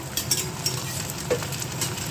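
Boiled potatoes tossed with fried onion in a hot pan, a steady close sizzle and crackle with occasional scraping stirs, no voices.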